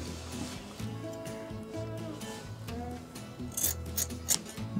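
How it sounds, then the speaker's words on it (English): Scissors snipping through light brown felt while cutting triangle shapes for a craft, a few close, soft crunchy cuts over a quiet room. "I'm going to cut two triangles out of the bottom of this piece of felt."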